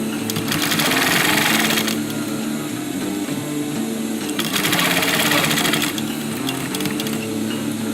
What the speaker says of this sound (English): Now turn the canvas around and continue sewing.